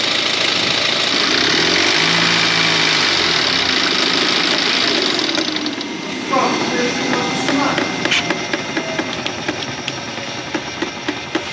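A BMW engine idles roughly and shakes, a steady low rumble with uneven knocking heard up close, mixed with broadband noise and occasional clicks, while people talk nearby.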